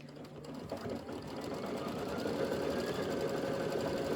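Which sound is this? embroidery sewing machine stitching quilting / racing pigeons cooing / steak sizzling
embroidery sewing machine stitching quilting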